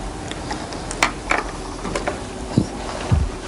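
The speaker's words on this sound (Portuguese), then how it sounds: "sendo que o motor não para de trabalhar" A Keppe motor runs continuously, driving a fan while a battery charges, giving a steady faint mechanical hum with scattered light ticks and clicks, no voices.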